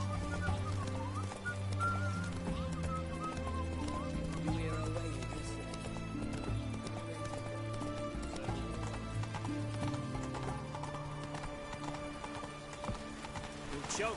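A horse gallops in The Witcher 3, steady rhythmic hoofbeats with a whinny under game music, continuous and close throughout.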